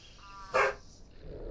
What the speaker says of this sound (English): The dog barking is our dog that you can hear.